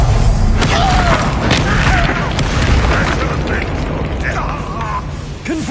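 Explosive Confringo blasts from spellcasting in Hogwarts Legacy, a dense, booming burst of blast energy sustained through the moment, layered over game combat noise and voices.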